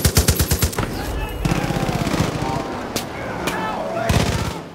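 Light machine gun fire in the video game Far Cry 5: a rapid burst of loud, close shots opens, then more scattered gunfire and a few sharp single shots follow, with a final burst near the end amid background noise and voices.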